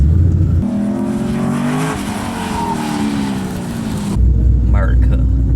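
C5 Corvette with a Z06 drivetrain swap accelerating hard, a loud rising engine roar climbing through the revs before cutting off to a lower rumble, close by.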